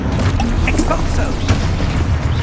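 An Expulso explosion spell goes off in Hogwarts Legacy as a loud, sustained booming blast with low rumble and crackling debris, while game voices are heard under it.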